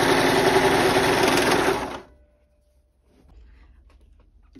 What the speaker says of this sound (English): let's try a shorter stitch length and see if that works